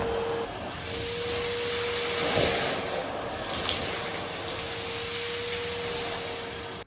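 A Numatic Hetty XL Plus HET370-11 vacuum cleaner runs steadily on carpet, a loud, continuous broadband whoosh with a steady motor whine, holding for several seconds before it cuts off abruptly.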